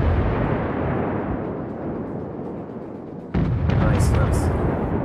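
Warship guns firing in World of Warships, a heavy roaring rumble that swells and fades, then a sudden loud boom of a fresh salvo with crackling bursts on top.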